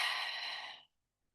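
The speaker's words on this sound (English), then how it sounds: "And then exhale." One close, breathy exhale during box breathing, a steady rush of air that fades out after nearly a second and leaves silence.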